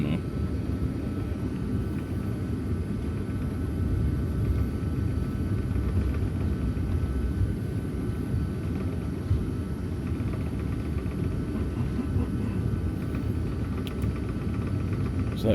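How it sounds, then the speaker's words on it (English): Jet airliner accelerating down the runway for takeoff at Green Bay, WI, heard from inside the cabin as a steady, loud low rumble of engines and rolling, continuous throughout with no talk. "It's taking off. Getting some speed before it goes."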